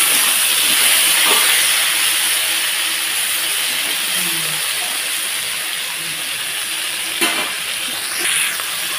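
Ginger, cumin and chili pastes fry in a pan with a steady, fairly loud hissing sizzle, plus a few faint clinks from stirring.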